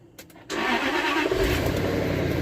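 A supercharged Jaguar XJ8 V8 cranks for a moment, then catches and settles into a loud, rough idle, recorded close to the car with no voices.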